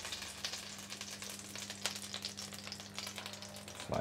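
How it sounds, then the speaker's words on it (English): Salmon croquettes fry in hot, foaming butter in a pan, a steady loud crackling sizzle running the whole time with a low hum beneath and a brief clatter at the end. "the butter is foaming and the pan is hot. So now we can start adding our croquettes"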